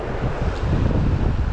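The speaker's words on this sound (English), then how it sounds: "It is kind of windy" Steady wind buffets the microphone beside a river at a campsite, a continuous low rumbling roar with gusty swells and no voices.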